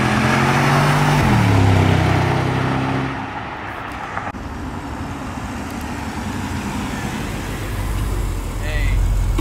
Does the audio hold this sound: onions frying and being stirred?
no